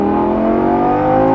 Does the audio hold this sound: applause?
no